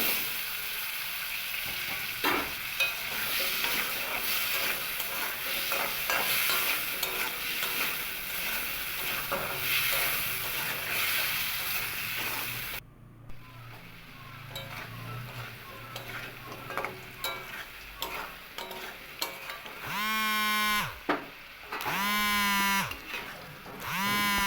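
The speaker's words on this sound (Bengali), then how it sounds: "এবার আমি ওই তেলের মধ্যেই টুকরো করে কেটে নেওয়া আলুগুলো লাল লাল করে ভেজে নেব।" Potato pieces fry in hot oil for a lauki-prawn curry: a steady close sizzle for about thirteen seconds, then quieter clatter and stirring, with a few tonal squeaks near the end.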